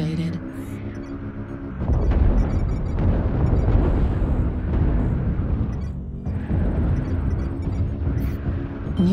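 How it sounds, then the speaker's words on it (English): Artillery strike explosions in a video game set off a deep, rumbling boom that begins about two seconds in and rolls on heavily, with a second surge later and a voice speaking over the start. "Artillery strike activated."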